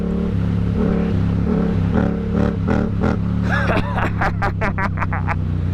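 Yamaha MT-07 motorcycle pulling away, a steady engine drone rising into quick rising revs near the end, with someone talking over it.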